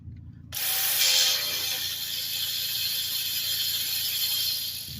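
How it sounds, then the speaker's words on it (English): A ratchet wrench works an 8mm bolt on the starter of a 2013 Chevy Impala, giving a close, steady clicking whir that starts abruptly after a short silence and carries on evenly. "I'm gonna use my ratchets"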